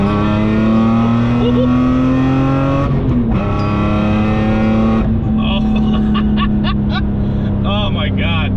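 A loud, deep exhaust drone from an E46 BMW M3 with an open valved muffler, rising and falling in pitch as the engine revs, with a person talking over it.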